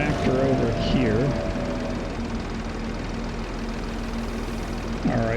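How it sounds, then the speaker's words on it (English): A small tractor engine in the video game Farming Simulator 25 hums at a steady low idle with a faint tonal whine, running continuously in the background while someone talks over it. "Let's move this little tractor over here."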